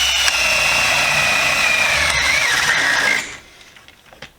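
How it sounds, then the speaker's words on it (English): A power drill bores holes into scrap wood, a loud whining motor held steady for about three seconds, its pitch sagging slightly as the bit bites, then it cuts off, leaving a few faint handling clicks. "I'm going to drill probably 2 7/8 holes real quick."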